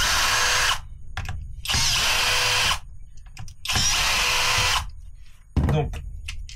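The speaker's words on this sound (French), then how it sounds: "Donc, hop, je défais les 4 vis." A power screwdriver whirs in loud bursts while backing out four screws on an MCD XR5 motorcycle, each run lasting about a second with short pauses and a person speaking between them.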